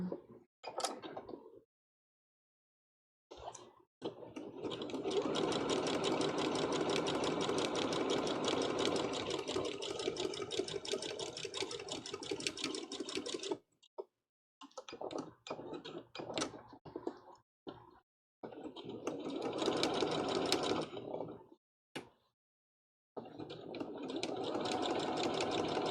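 Sewing machine stitching appliques onto a One Piece Big Mom cosplay, running in several long loud bursts with short pauses between, the steady needle rattle stopping and restarting.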